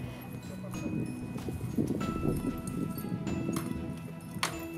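Horses move about the competitors' camp at a Saumur international carriage-driving event, with soft hoof clip-clops and shuffling under a steady voice speaking throughout.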